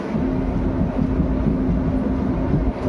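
Continuous close rumble of the 14087 Runicha Express passenger train running on rails, a steady loud drone with a faint constant hum and no pauses.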